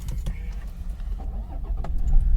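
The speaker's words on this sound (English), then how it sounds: "So let's turn on this car." A 2021 Toyota Fortuner 4x4 automatic engine turns over by push button and catches, building into a low, steady rumble up close, with a few faint clicks early on.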